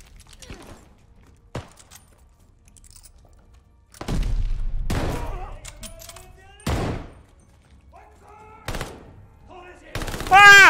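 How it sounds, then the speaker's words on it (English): A grenade is thrown and detonates in the Call of Duty: Vanguard campaign, one of several loud booming blasts that punctuate the stretch among quieter pauses and scattered game noises. "I'll chuck another grenade down here."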